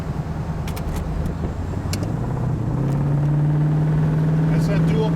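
A 1964 Buick Wildcat's 425 Nailhead V8 with dual four-barrel carburetors runs close and steady, its drone rising in pitch and loudness midway as the second carb opens up, with brief talk and light rattles over it.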